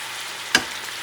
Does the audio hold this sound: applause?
no